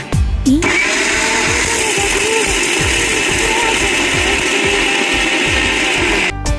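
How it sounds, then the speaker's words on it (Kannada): A mixer grinder grinds roasted peanuts into powder for a cluster bean curry, starting with a jolt and holding a loud, continuous whirring roar until it cuts off. "ಶೇಂಗಾ ಹುರಿದಿರ್ತೀವಲ್ಲ, ಹಿಂಗೆ ಮಿಕ್ಸಿಗೆ ಹಾಕ್ಬೇಕು."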